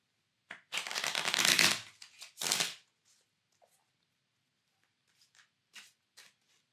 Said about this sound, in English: They shuffle real nice.